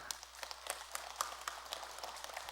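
An audience at a Buddhist dharma talk at Jogyesa temple breaks into scattered applause, with faint, distant clapping running steadily throughout.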